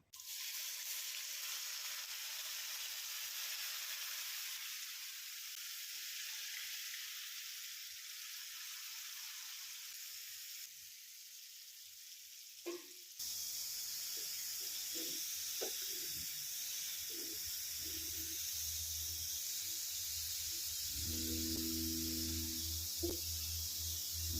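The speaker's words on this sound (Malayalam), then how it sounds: "ഇതിൽ ഈ കൂർക്കൊന്ന് വറുത്തെടുക്കണം." Chinese potato (koorka) pieces frying in coconut oil, first a faint steady hiss, then a fuller, louder sizzle with bubbling and occasional clinks of a utensil in the pan.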